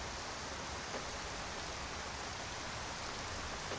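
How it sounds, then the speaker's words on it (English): Steady, even rainfall in Skyrim hisses without a break, a soft broadband wash of drops with no talking and no change in intensity. "It's raining outside."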